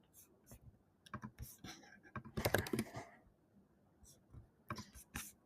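Quiet keyboard typing while filling in an online Tally form, with soft irregular clicks in short runs and a denser burst of keystrokes in the middle.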